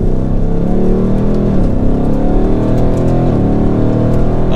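A Ford Mustang Dark Horse V8 muscle car drives with a steady, loud engine note, harmonics rising and falling as the throttle varies, with no talk over it.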